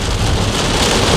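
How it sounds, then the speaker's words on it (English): Heavy rain pours down in a steady, dense roar, loud and close throughout, with no voices over it. "Y'all, it's raining like shit."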